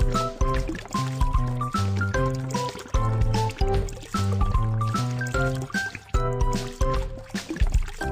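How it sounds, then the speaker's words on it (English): Cartoon dental game effect of a bottle filling a tooth, playing under bouncy music with a bright, liquid-like pouring tone that runs continuously through the whole stretch. "Drag the bottle to fill the tooth with fillings."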